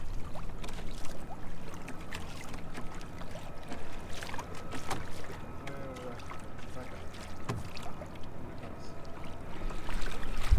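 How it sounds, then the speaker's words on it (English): A big boat's engine drones steadily as it passes across a bay, with lapping and splashing close by and a low continuous rumble throughout. "watch a big boat pass by, and I'll show you what the wakes will do"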